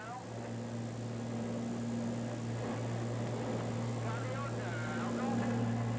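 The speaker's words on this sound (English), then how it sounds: "This is as the aircraft is landing." A Columbia National Police Twin Otter lands near a jungle airstrip, heard from inside the cabin as a steady, droning propeller and engine hum with a rushing noise layer, constant and moderately loud, with a narrator speaking over it.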